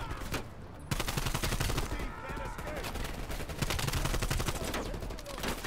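Call of Duty: Cold War gunfire crackles as rapid automatic bursts, dense sharp shots in quick succession, with a brief pause before the firing resumes, loud and close.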